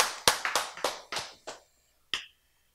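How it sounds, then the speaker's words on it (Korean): Hand clapping during a church sermon: a quick run of about six sharp, close claps that fade out, then a single late clap after a short pause. "박수"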